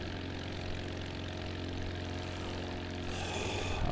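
An airplane engine drones steadily in flight in a flight simulator on a trip from KCLE to KGKJ, a constant, even propeller hum with no voices.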